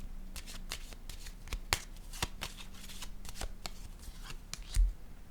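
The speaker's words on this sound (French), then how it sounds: "Je vais déposer une carte ici maintenant." Tarot cards shuffled and dealt onto a table, a close, quiet run of soft riffling flicks and light slaps with a few sharper card snaps standing out.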